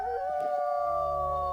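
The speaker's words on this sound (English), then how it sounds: "Aw, somebody's got such a fun howl." A wolf pup howls in the WolfQuest video game, one clear, sustained rising-and-falling wail with layered overtones, close and prominent over a faint low game background.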